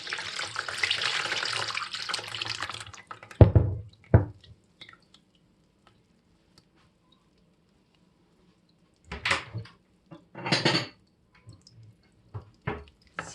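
Homemade hawthorn vinegar being strained, starting with a few seconds of steady pouring and trickling liquid, then a couple of sharp clinks followed by quiet, and later short bursts of splashing and dripping, close up with no talking.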